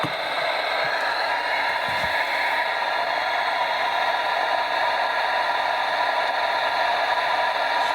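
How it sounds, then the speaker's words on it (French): A steady electronic buzz with broad static hiss from a ghost-hunting device disturbed by phone interference holds constant and fairly loud throughout, with a faint click or two near the start. "Il buzz à cause du téléphone."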